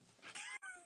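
A pet cat meows close to the microphone, a single drawn-out call lasting under a second with a brief dip near its end, quiet in an indoor room.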